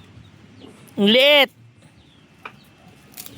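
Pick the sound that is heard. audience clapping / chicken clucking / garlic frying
chicken clucking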